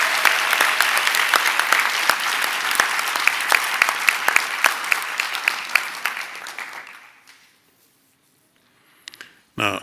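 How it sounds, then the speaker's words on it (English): Loud, dense applause from a graduation ceremony audience at a Centre for Human Rights event, sustained for about seven seconds with a few sharper claps before fading to near silence, then a brief late burst. "let's give a big applause to our graduates"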